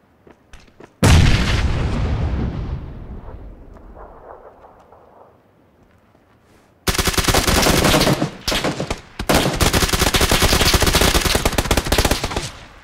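Gunfire in PUBG: a sharp shot at the start, then a fading echoing tail, followed by long loud bursts of rapid automatic fire with brief pauses near the end.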